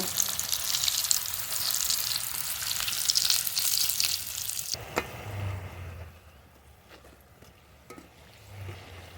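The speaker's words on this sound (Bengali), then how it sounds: "তেলের উপর দিয়ে দেবো খুব ভালো করে ভেজে নেব" Eggplant slices fry in hot oil with a loud, dense sizzle for about five seconds. It then drops away to faint crackling and a few soft clinks.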